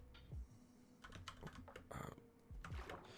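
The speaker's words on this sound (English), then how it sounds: "this is kind of refreshing having a new keyboard that doesn't make too much sound." Keystrokes on a new, quiet computer keyboard, tapped in short irregular bursts at close range with soft thunking presses and brief pauses, no voices.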